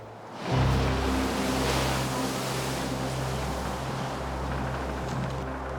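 Ocean swell and waves off Cape Horn, where the Atlantic and Pacific meet, roar in a steady, loud wash of surf with deep low rumble and wind, continuous and unbroken throughout.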